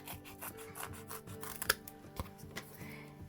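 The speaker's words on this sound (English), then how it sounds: "I'm going to cut a strip from my adhesive sheets" Scissors snip a strip from adhesive sheets for card making, giving close, quiet rubbing and cutting sounds with a couple of sharper clicks and no talk.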